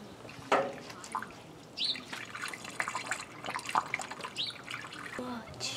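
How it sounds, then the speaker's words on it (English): Coolant glugs and trickles into the radiator of a Toyota Camry 3.5 V6 in uneven splashes and drips, fairly quiet and close, with faint voices in the background. "now I'm going to refill the radiator"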